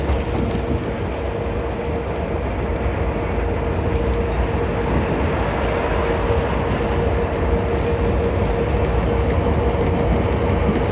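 A train rolls through Vijayawada junction with a continuous loud rumble and rattle of wagons and a faint steady tone, unbroken throughout with no voices.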